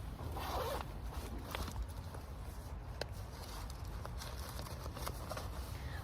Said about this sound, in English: put your car keys somewhere really safe, zipped away